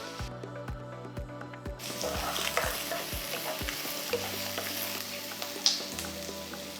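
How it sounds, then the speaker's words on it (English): Chopped onions saute in a pan, starting with a few sharp knocks and scrapes of a spoon, then a continuous close sizzle with occasional stirring clatter and a brief faint trickle. "Saute the onions till they are transparent."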